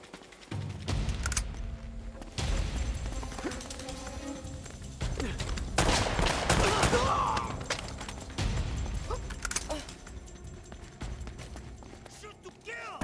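Gunfire in an Uncharted game crackles in scattered bursts at moderate distance under ongoing talk, mixed with footsteps and action noise, never very loud.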